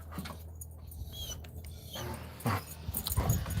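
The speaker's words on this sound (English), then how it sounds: "Get the dogs out, let them play." Dogs playing outdoors on a dry lake bed, with soft scuffling, patter and faint whimpering and growl-like noises at low level, building into a few louder bursts near the end, with no speech.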